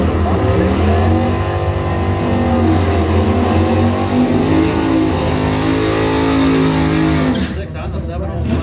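Drag race cars roar down the strip in a continuous loud engine drone, a Ford beating a Chevy at a memorial race, while an announcer talks over the noise before a sudden drop near the end.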